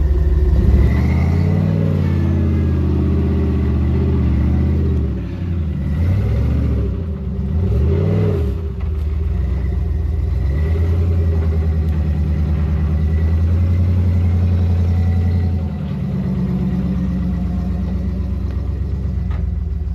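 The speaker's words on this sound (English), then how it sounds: "I'm gonna hopefully get Tom's Jeep up without getting all nervous too" A Jeep climbs an off-road trail in Kentucky, its engine loud and close, droning at a low rumble with several surges of revving and dips as the throttle is worked over the rough ground.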